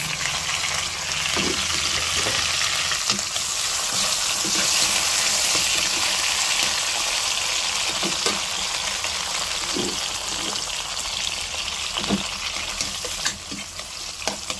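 Garlic, onion and tomato sauté in a pan for a shrimp and mung bean dish, giving a steady close frying sizzle with occasional stirring clinks throughout.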